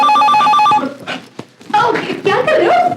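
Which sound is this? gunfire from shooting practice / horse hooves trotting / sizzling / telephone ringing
telephone ringing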